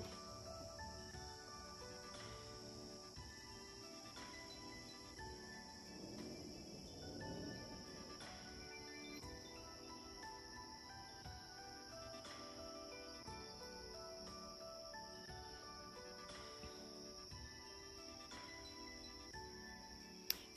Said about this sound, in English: I'll let you hear the crickets and everything.